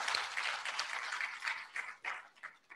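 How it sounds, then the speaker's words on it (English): An audience at a Kenyan International Women's Day celebration claps for First Lady Margaret Kenyatta, a dense burst of many hands that thins into scattered claps and fades out. "Can we clap for the First Lady?"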